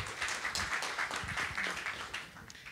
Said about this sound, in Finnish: Kiitos, aplodit peliajalle.